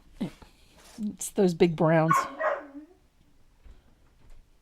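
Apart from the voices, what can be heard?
dog whining and barking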